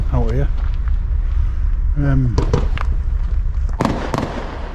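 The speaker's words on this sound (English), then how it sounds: "There's still fireworks going on." Fireworks bang and crackle repeatedly over a misty stretch of the River Humber at Paull during a night of sea fishing, with steady wind and water noise underneath and people talking nearby.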